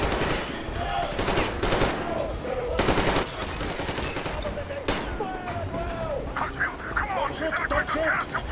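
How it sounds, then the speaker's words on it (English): Heavy .50 caliber machine gun fire in a train-themed video game, sounding as dense rapid bursts over several seconds amid other game sounds, with a dog barking and whimpering and voices talking over it. "Hey, I got the 50 cal now."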